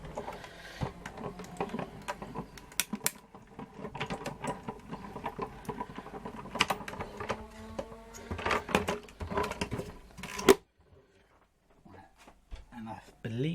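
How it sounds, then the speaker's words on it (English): Cuttlebug die-cutting machine being hand-cranked with stacked B and C plates during card making, a soft irregular ratcheting and clicking of gears and rollers, quiet and close, ending in near silence. "grab hold of my C plate, and we're going to crank that through the Cuttlebug."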